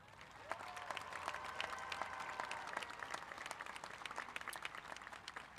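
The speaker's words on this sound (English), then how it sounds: "Please let us give one more round of applause for all our graduates" A graduation ceremony audience applauds steadily, a dense wash of many hands clapping in a large venue, sustained at an even level throughout with no voices on top.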